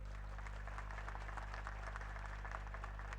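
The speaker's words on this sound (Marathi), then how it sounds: "एकदा कमिटीसाठी जोरदार टाळ्या होते" An audience at a lecture on Chhatrapati Shivaji Maharaj and today's youth claps for the committee, a faint, steady patter of many hands beneath a loud electrical hum.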